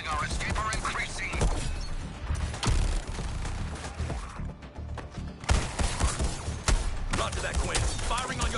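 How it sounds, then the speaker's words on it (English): Dense gunfire from the video game Suicide Squad: Kill The Justice League: rapid mechanical bursts and impacts that stay loud and nearly continuous, briefly dipping midway, mixed with game effects and occasional voices. "Focusing my fire as ordered, Deadshot."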